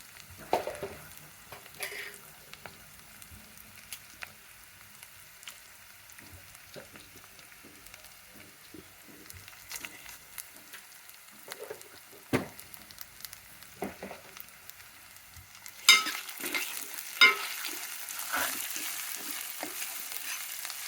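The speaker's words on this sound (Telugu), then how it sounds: "బాగా వేయించుకోవాలి." Chilies frying and being stirred in a pan for Telugu pakodi majiga pulusu, a soft crackle under scattered scraping stirs, with the sizzle turning brighter and louder near the end.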